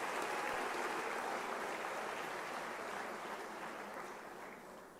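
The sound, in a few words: applause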